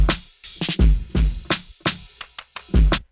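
A hip-hop drum beat knocks out punchy kicks, claps, open hi-hats and snare hits, closing on a drum fill, in a steady, crisp rhythm with no talking.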